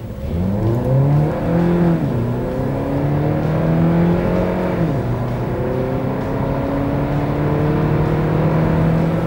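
A Kia Niro 1.6 GDi hybrid from 2017 accelerates hard to 100 km/h, its engine note rising steadily through several gear changes, heard loud and close from inside the car with no talking.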